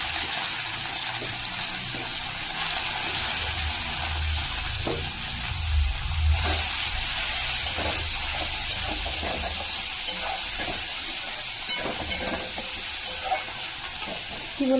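Chopped garlic fries in a hot pan with a steady, close sizzle, broken by scraping stirs and occasional soft clicks of the utensil against the pan, alone without talk.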